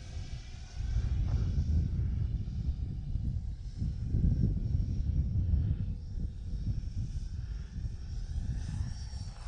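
An Arrows T33 Shooting Star RC jet with a 4S 1300 battery flies in gusty wind, its ducted-fan roar steady and loud throughout, rising and falling slightly as it passes, with no talk.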